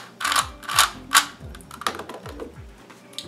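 A Rubik's faster action 3x3 cube being turned: a series of quick plastic clicks and scratchy rattling twists, several distinct turns in an uneven rhythm, close and fairly faint.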